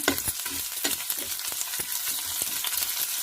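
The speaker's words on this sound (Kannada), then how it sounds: "ಈರುಳ್ಳಿ ಒಂದು ಸ್ವಲ್ಪ ಕೆಂಪುಗಾಗಂಗೆ ಹದವಾಗಿ ಒಗ್ಗರಣೆ ಮಾಡ್ಕೋಬೇಕು" Close-up sizzling of onions in hot oil with quick, repeated spatula scrapes and taps as they are stirred, no voices.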